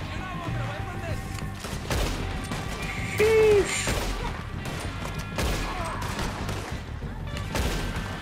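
Gunfire in the Red Dead Redemption 2 video game, several scattered sharp shots and cracks spaced across the stretch against a steady game backdrop, with a voice talking over it.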